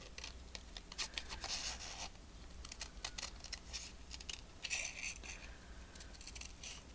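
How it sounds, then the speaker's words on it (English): Scissors snip around a paper image for a journal, a run of short crisp cuts with brief pauses, close and fairly quiet, with faint paper rustle between snips. "And then we'll cut around this guy. Fussy cut."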